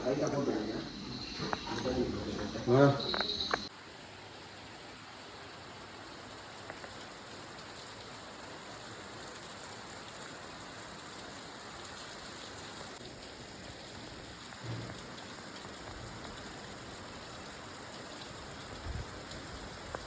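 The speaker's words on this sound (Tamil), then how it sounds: "காலையில் 3 மணிலேருந்து மழை இப்படி தான் நசன்னு பெஞ்சிட்டு இருக்குது" Heavy rain pours steadily at a hill station in Vagamon in the early morning, a dense, even hiss with no break. A louder, cluttered burst opens before the downpour settles into a continuous wash.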